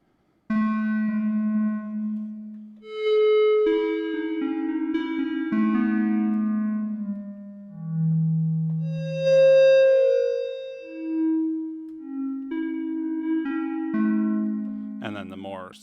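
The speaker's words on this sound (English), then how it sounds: "And then that way you can go between short bell notes." Korg Minilogue synthesizer set to a west coast style patch, playing a sequence of short, bell-like tones with ringing overtones, some notes gliding and swelling, clear and close with no talking.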